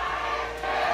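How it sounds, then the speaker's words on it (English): Esports crowd at the MPL Singapore Season 4 grand final cheering the champion team, a steady roaring mass of voices that holds throughout, briefly dipping then swelling again, with no clear talk on top. "That's the cheer of the Raiders right there."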